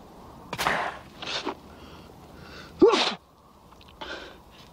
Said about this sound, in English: Makes me sneeze.